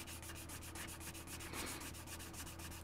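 Heavy-grit sandpaper rubbed by hand in quick, regular back-and-forth strokes, each producing a raspy scratching burst in an even rhythm, close and fairly quiet, with no voices.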